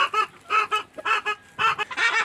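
Free-range village chickens cluck in repeated short bursts, loud and close, a busy rhythmic series of calls with no talking over them.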